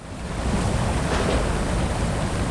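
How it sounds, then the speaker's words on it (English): A waterfall in the video game LOTRO gives off a loud, continuous rushing roar of falling water, dense and steady throughout with no voices. "here we are at the waterfall"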